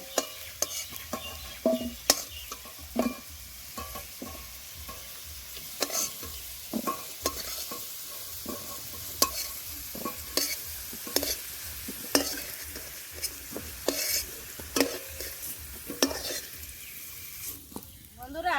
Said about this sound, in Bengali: বন্ধুরা আলুগুলো ভাজা হয়ে গেছে এখন তুলে নেব